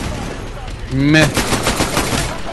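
A magma pistol firing in the Titanfall campaign, a quick run of punchy shots with a brief rising whine at the first shot, over a steady battle backdrop, with a short spoken grunt.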